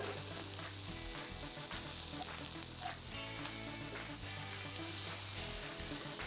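Savory vegetable pancakes fry in a hot pan with a steady, close sizzle that holds for several seconds under a low background hum.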